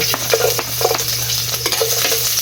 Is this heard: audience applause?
no